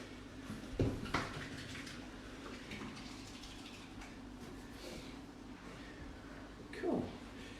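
Tap water runs steadily in a kitchen sink while hands are washed during cooking, a low continuous gush with a couple of brief louder splashes near the start and end.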